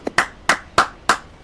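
Hands clap four times in an even rhythm after one softer tap, the claps sharp, close and loud with short gaps and no talk.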